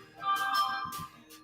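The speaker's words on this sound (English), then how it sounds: "Oh, my phone isn't here. I just heard it." A mobile phone ringtone sounds briefly in a room, a short bright melodic chime that rises and falls over about a second, heard alone at moderate volume.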